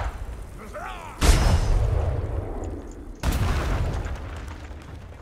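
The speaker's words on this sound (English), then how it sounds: "It's just a cannon." Two heavy ship's cannon blasts in the sailing game ATLAS, each a sudden loud boom with a long rumbling tail, spaced about two seconds apart.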